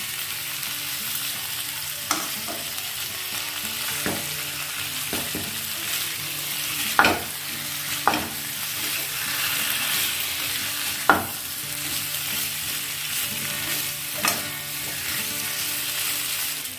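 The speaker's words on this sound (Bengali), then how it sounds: "নেড়ে নেড়ে এর ভেতরে সমস্ত মশলার টেস্টটা যাতে ঢুকতে পারে খুব ভালো করে নাড়াচাড়া করতে হবে।" Spiced potatoes for dry aloo dum sizzle steadily in a pan while a spoon stirs and scrapes through them, with occasional sharp taps against the metal over the constant frying hiss.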